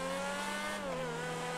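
Hot pink race car in the video game GTA drones at a steady, high engine pitch that dips slightly partway through, loud and continuous with no talking.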